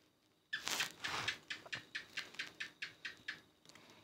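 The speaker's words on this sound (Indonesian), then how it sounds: "Itu bunyi cicak ya guys." A house gecko (cicak) calls indoors late at night: a quick series of about a dozen sharp chirping clicks that begin loud, then grow shorter and softer as the call runs down. No one speaks over it.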